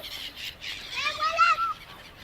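Pigeons at a seaside corniche in Kuwait give a brief, faint burst of calls, heard amid light background noise.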